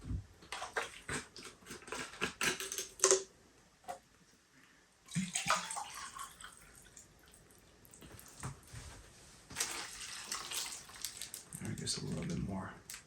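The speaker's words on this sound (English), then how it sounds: "we have to put 2 cups of water, or just enough water that it's covered" Water is poured into a pot over chicken while camping in a winter snowstorm, for chicken and dumplings, in uneven bursts of splashing and trickling with pauses between, and a person talks at moments.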